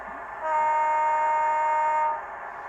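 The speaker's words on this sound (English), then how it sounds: "Function 4 is a high horn" A bright, steady high horn tone from an OO gauge Class 68 model locomotive sounds for about a second and a half over a faint background hum, starting and stopping cleanly.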